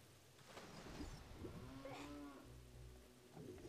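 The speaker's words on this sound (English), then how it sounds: "Is there a cow down there drowning in the water?" A cow lowing in Zelda: Ocarina of Time, one drawn-out moo rising and falling over a few seconds, fairly close, with a soft rumbling ambience of rain and distant thunder beneath it.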